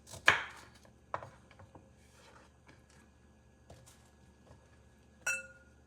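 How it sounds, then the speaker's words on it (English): A knife cuts Brussels sprouts in half on a cutting board, giving a few crisp, close chops: one sharp strike near the start, a couple of lighter cuts after, and another firm chop near the end, with quiet pauses between. "I'm just slicing them in halves"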